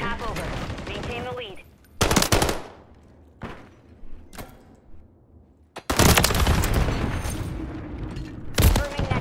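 A drawn-out gunfight in Call of Duty: Modern Warfare 3, with sharp, loud bursts of automatic fire broken by short pauses and isolated shots, and a voice talking in the gaps.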